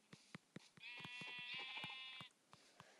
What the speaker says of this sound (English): now we have a sheep.